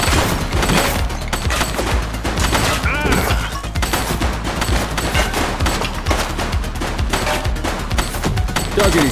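Dense, continuous gunfire from a shooting suspect in a police video game crackles loudly throughout as rapid overlapping shots, with shouting voices mixed in.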